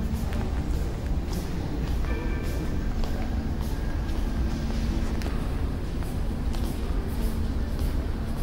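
Steady low rumble fills a metro station interior in Dubai, with a faint mechanical hum and distant rolling noise like trains moving through the station.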